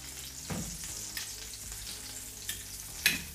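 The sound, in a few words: meat frying in butter with thyme in a pan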